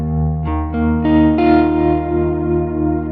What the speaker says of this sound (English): Now you can hear underneath all the reverb and delay swells underneath what I'm playing.